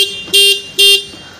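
Two short, loud honks from a Honda Activa scooter horn, evenly spaced, close by over a faint engine hum.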